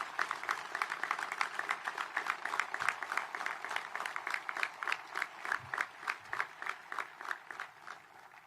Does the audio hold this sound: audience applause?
yes